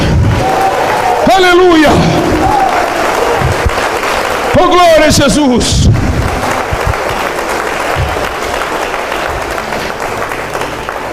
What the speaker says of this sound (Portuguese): Essas palmas é para Jesus, igreja.